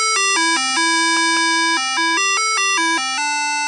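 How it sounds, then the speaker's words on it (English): Chiptune-style music from the Oregon Trail video game on the look-around screen: a short, bright, bell-like melody of stepped beeping tones, playing cleanly and alone. "when you look around, that screen pops up and some music plays, which sounds fun"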